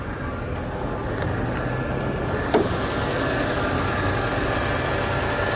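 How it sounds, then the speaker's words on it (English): Engine of a 2005 Audi A4 convertible idling with the hood open, a steady broadband hum with a brief faint tick midway and no voices. "Take a look up underneath the hood."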